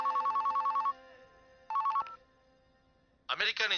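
A telephone rings with a bright electronic trill in two bursts, a long one and then a shorter one after a pause, in a scene from a Telugu film; a voice speaks briefly at the end.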